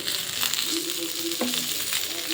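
Bangda mackerel frying on a tawa atop a banana leaf, a steady close crackling sizzle with faint tonal hum from the stove underneath, no one speaking.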